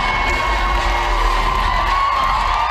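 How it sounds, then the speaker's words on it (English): A sold-out crowd cheers and applauds for a model on a fashion show runway at the Queen Elizabeth Theatre during Vancouver Indigenous Fashion Week, a dense, steady roar of voices and clapping with no break. "Sierra walked that runway with roaring applause by the sold-out crowd at the Queen Elizabeth Theatre"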